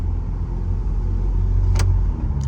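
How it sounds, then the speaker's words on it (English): Tuned Infiniti Q50 running on E85 creeping along at very low speed, a steady low engine rumble heard from inside with a brief sharp pop or click partway through. "we're driving very slow"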